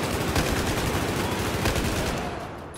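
Gunfire in the Battlefield 4 campaign's Baku mission: rapid, continuous automatic shots in a dense, loud burst that holds steady for nearly three seconds, with no talk over it.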